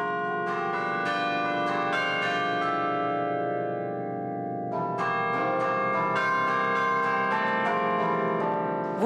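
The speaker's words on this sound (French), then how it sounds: "Vous pouvez entendre le carillon de Chambéry tous les samedis à 11h." Carillon bells in Chambéry, one of the world's largest carillons, ring a continuous melody of overlapping struck bells with long, shimmering resonance, loud and close, briefly thinning before a fuller cascade of notes resumes.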